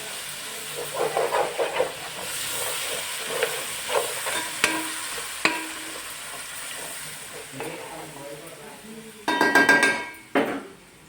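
Fish pieces frying in a pan for fish curry with turmeric and ginger, giving a steady close sizzle and hiss with scattered clinks and stirring, swelling into a louder sputter near the end.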